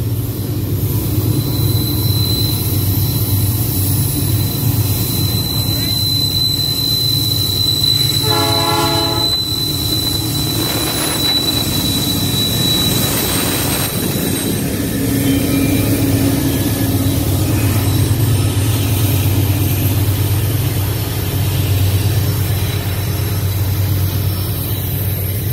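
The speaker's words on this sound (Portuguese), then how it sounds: "Olha o trem, filho." A train passing close by, its loud steady rumble and rolling wheel noise filling the scene, with a short horn blast partway through and faint squealing, no talk over it.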